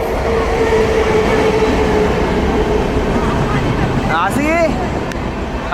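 A train rumbles past continuously at close range, a loud steady roar of rolling wheels throughout, with people's voices rising briefly near the end.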